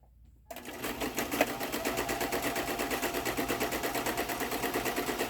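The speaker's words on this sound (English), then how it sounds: "And I'm going to sew it." A sewing machine stitches through a paper tag, its needle running in a fast, steady mechanical rhythm that starts abruptly after a brief quiet and continues loud and close throughout.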